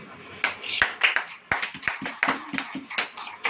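A church congregation claps hands in a brief, uneven patter of individual claps, fairly close and quiet, with a few sharper strikes.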